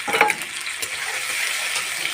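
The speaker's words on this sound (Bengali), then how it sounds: "রসুন ভাজা হয়ে গেলে আলুগুলো দিয়ে ভেজে নিতে হবে" Potatoes and greens stalks frying in garlic oil, giving a steady close sizzle with a brief clink of a utensil near the start.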